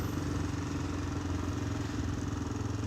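Motorcycle engine droning steadily at close range, a continuous low, even rumble with no clear rise or fade, heard from a riding motorcycle.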